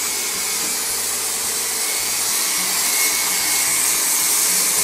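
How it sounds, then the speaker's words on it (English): A vacuum runs during wooden paddle carving with a spinning power tool, giving a loud, steady, broadband whooshing roar that continues without a break and has no voices over it. "You got a vacuum, it's all the stuff going this way."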